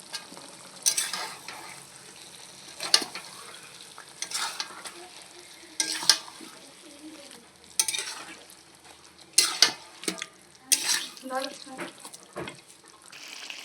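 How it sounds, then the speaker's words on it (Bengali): Marinated chicken and cut potatoes fry in hot oil for biryani, a steady sizzle punctuated by repeated scraping stirs of a spatula in the pan, close and moderately loud. "তেলটা গরম হয়ে গিয়েছে, ম্যারিনেট করা চিকেনটা কষিয়ে নেব।"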